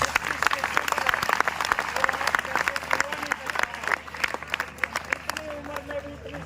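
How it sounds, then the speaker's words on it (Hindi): Loud, dense applause from a crowd at a yoga event honouring a 67-year-old doctor and yoga teacher, sustained clapping that thins toward the end with some voices murmuring underneath. "एक बार डॉक्टर साहब के लिए जोरदार तालियां।"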